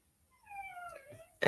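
A pet dog whimpers once in a quiet indoor room, a thin, faint falling whine lasting about a second, then a sudden close thump or rustle at the end.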